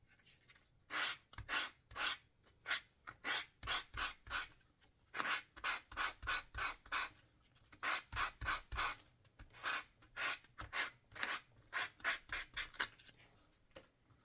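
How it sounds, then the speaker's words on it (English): Sandpaper rubbed back and forth over a small craft piece decorated with shells, a close, rhythmic series of rasping strokes in quick bursts, some paired, running steadily with no talking. "I'm going to sandpaper this guy."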